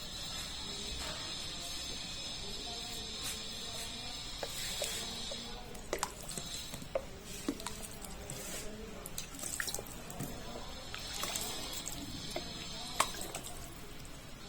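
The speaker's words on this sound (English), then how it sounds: "Now we'll water it." Water poured into a very full hanging plant basket of soil, giving faint soft dripping, trickling and squishing sounds that come in small irregular bursts at low level, with no talking.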